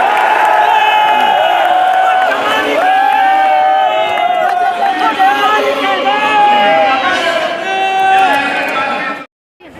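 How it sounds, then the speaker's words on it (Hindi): A huge outdoor political rally crowd in Delhi cheers and whoops continuously, a loud dense roar of many voices with rising shouts, before cutting off abruptly near the end. "हमारे पीछे बहुत भीड़ है, आप सामने भी देखेंगे तो बहुत भीड़ है"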